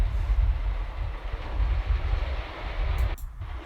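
A model train runs over two track switches on a layout, a soft rumbling roll with faint clicks, fairly quiet and near.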